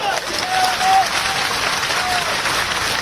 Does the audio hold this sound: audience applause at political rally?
yes